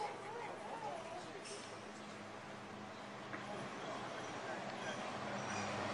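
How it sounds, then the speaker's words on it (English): Diffuse outdoor café ambience, a steady wash of distant chatter and faint clinks, quiet and continuous with no single voice standing out. "excuse the background noise here, we're meeting at a outdoor coffee shop"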